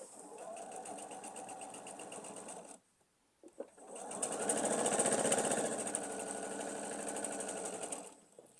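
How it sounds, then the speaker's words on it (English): A sewing machine stitches quilt block triangles in two steady, close runs of rapid whirring, with a short pause and a few clicks between them. "I am going to sew to the valley"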